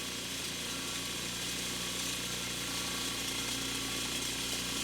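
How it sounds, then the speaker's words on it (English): A homemade tumbler turns a load of recycled blasting sand, bolts and a spring, making a faint, continuous mechanical whir with a gritty rattle close by, without talk. "So there's just sand in there and bolts and the spring."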